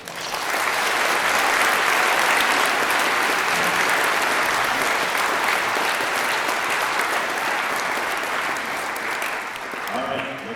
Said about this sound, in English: So let's give our seniors a round of applause.